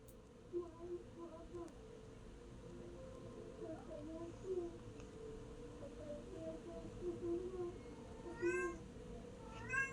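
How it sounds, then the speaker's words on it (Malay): A cat meows repeatedly, with short, fairly faint cries spread across the clip over a low background hum, and a few higher squeaky calls near the end. "Meow lagi"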